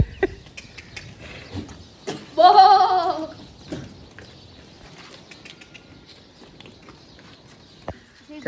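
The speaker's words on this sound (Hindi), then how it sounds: "एक बकरा हमने ये बांधा है" A goat on a farm gives one loud, drawn-out bleat lasting about a second. Quieter rustling and scattered farmyard noises surround it, with no talking.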